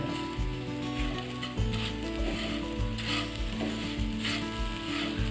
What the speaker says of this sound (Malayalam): പഞ്ചസാര ഒന്ന് ഉരുക്കി തേങ്ങയിലേക്കൊന്ന് ആവണം.